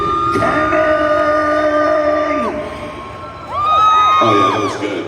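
A crowd cheers and whoops loudly, dips for a moment, then erupts again with shrill excited yells and screams.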